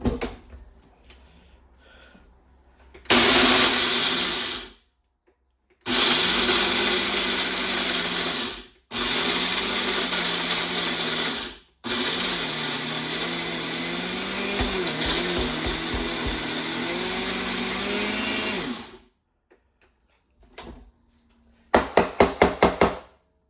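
A blender grinds dog kibble into puppy mush in several loud, close bursts of whirring and rattling, separated by short silences, with a few sharp knocks and clatters near the end.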